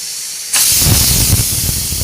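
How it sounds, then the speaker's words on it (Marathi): A sharp, loud burst of steam hissing starts abruptly and continues steadily, a pressure cooker whistle venting close by while cooking pav bhaji. "हे बघा शिट्टी पण होते कुकरची"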